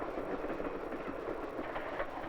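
Passenger train from 1954 rolling on tracks through mountain country, a steady loud rumble with faint rhythmic clatter of wheels, no voices.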